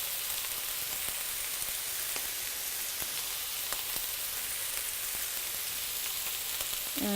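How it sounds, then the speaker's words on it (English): Ground spices such as turmeric, black pepper, salt and saffron frying in a pot for Persian ashe must, a soft, even sizzle with occasional light scrapes of stirring, fairly quiet and unbroken throughout. "We're just going to stir it until all the spices get fragrant"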